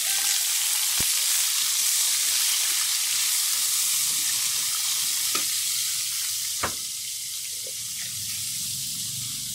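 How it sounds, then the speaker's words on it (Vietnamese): Tofu and carrot stir-frying in a hot pan, a steady bright sizzle throughout with occasional sharp clicks and scrapes of a utensil stirring, no voices. "Rồi mình xào đậu nha. Cái chảo lên, cho đậu vô, đậu và một ít cà rốt."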